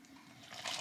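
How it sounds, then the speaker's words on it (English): Powdered milk replacer mixed with water pours through a funnel into a feeding bottle, a brief soft liquid trickle that swells and brightens toward the end. "So I put the funnel in, and then I bring it, so I put the funnel back in, and then I pour"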